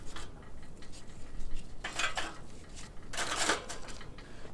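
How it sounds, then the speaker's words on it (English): A metal spin grate lowered onto a charcoal grill basket loaded with charcoal and a hickory chunk, giving a couple of light metallic clanks and rattles over a steady outdoor background hiss. "Get the spin grate down."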